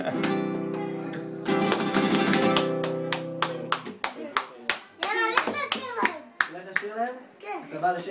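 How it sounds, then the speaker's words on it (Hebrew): A lone person claps hands in a sparse, uneven series of sharp claps, starting under a sustained musical tone and continuing alongside speech. "אף אחד לא מוחא כפיים חוץ מאילן"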